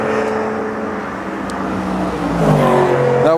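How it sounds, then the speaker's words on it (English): Classic Porsche 911 race cars drive at the Nürburgring during the 24 hours race weekend, giving a steady, fairly loud engine drone that swells and revs slightly near the end, with no voices over it. "There you go, 911 classic race cars on one side,"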